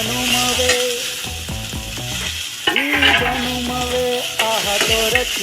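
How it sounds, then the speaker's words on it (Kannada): Onion, tomato and garlic fry in a pan for a fish sambar curry with a loud, close, continuous sizzle and repeated stirring scrapes. No one speaks. "ಈರುಳ್ಳಿ ಟೊಮೆಟೊ ಬೆಳ್ಳುಳ್ಳಿ ಫ್ರೈ ಆಗಿದೆ"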